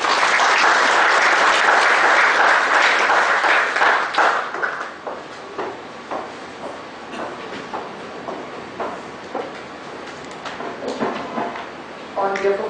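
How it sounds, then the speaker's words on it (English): An audience at a Bangalore branch seminar on tax amendments bursts into loud, close applause for several seconds, which then fades to scattered claps as a speaker begins talking. "Big round of applause, ladies and gentlemen."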